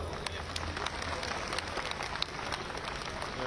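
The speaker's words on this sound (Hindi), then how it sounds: "आप साथियों से प्रार्थना है, जोरदार तालियों से" Applause from a large audience at an event in Lucknow, a fairly faint, steady patter of many hands clapping heard from a distance, with scattered sharper claps on top.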